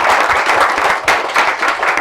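A studio audience applauds loudly for the guests of a French TV talk show, with dense, steady clapping that sounds close and continuous, briefly swelling again partway through.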